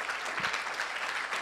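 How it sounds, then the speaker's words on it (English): Round of applause from a conference audience welcoming a speaker on WebRTC, a brief burst of even, continuous clapping at moderate distance with no voices. "Big round of applause for Lorenzo."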